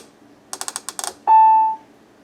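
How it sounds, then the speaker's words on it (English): The mode knob on a Maytag washer is turned through a quick run of about seven crisp clicks, followed by a single clear electronic beep, close up. "over here we have this knob, which its main purpose is simply to change modes of the washer"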